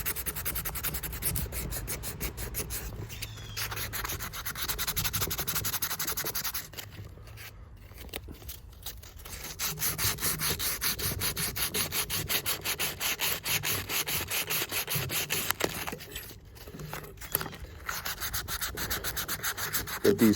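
Hardened steel Felco pruning shear blades scrubbed clean with an abrasive, giving continuous close rhythmic rubbing strokes that pause briefly a couple of times before resuming.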